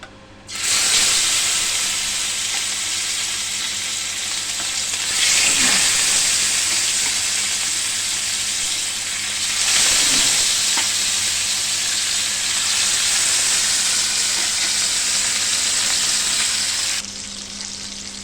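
Pieces of katla fish sizzle steadily in hot, smoking oil in a pan, a loud continuous frying hiss with soft bursts around 5 and 10 seconds as more pieces drop in, easing off near the end.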